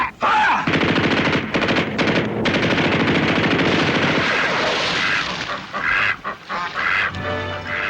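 Rapid bursts of machine-gun fire crackle through a war-film battle scene, with loud, continuous rattling volleys broken by brief pauses and shouting voices mixed in.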